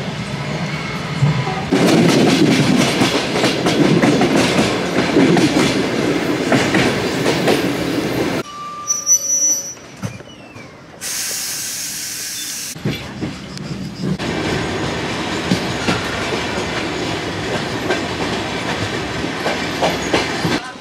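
A train from Armenia rumbles past loudly at a station in Georgia with rhythmic clickety-clack, briefly fades to a quieter hiss with a faint tone, then the heavy rolling noise returns.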